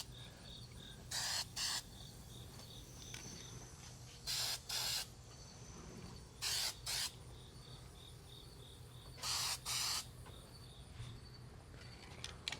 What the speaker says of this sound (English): It's not quite the finish spraying out the way I thought it would